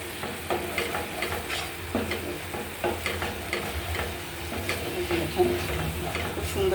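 Rohu fish curry ingredients with pointed gourd being stirred and fried in a pan, a steady close sizzle broken by repeated scraping strokes of a spoon against the metal.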